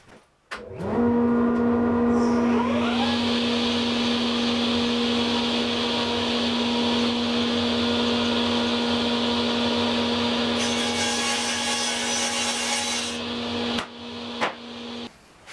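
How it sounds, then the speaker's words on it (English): In a garage workshop, a Shopsmith motor spins up beside a running dust collector and settles into a loud, steady whine with a low hum. Plywood is then pushed through the blade, adding a harsher cutting roar for a few seconds before it winds down. "turn on the dust collector, Shopsmith, and then I push the plywood through"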